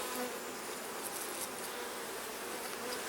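Honey bees buzz around an open hive on a nice day, a dense, continuous hum of many insects at moderate volume with no voices.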